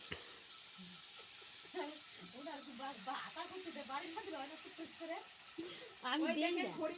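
Carrots fry in hot oil on a home stove while fried rice is being cooked, giving a steady low sizzle beneath ongoing conversation and talk throughout.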